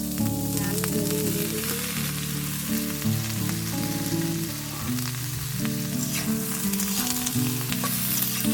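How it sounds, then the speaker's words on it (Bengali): Bottle gourd stalks sizzling loudly in hot oil, stirred with steady scraping of a spatula in the pan, close and continuous with no talking. "তেলের মধ্যে ডাঁটাগুলোকে 1 থেকে 2 মিনিট ভালো করে নাড়াচাড়া করে নিয়েছে।"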